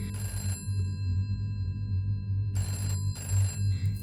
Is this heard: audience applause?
no